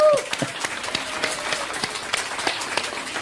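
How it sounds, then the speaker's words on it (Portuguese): Applause for the teacher in an adult animated Brazilian cartoon, a dense crackle of many hands clapping steadily for about three seconds, with a brief voice at the start. "Olha ela aí, palmas pra professora Cud."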